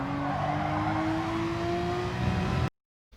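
Race car at Catalunya in a racing video game, engine accelerating with a steadily rising whine and rumble, loud and continuous for under three seconds before cutting to silence.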